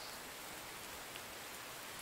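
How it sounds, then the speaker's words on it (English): Steady rain in the survival video game The Infected, a dense, even hiss of falling drops with no let-up and no voices over it. "Oh, rain, stop with this rain fog."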